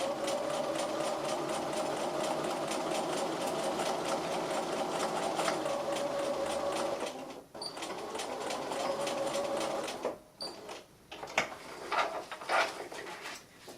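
Close sewing machine runs fast and steady for about seven seconds while sewing a soft toy bear, pauses briefly, then stitches again and ends with short stop-start back-stitch bursts.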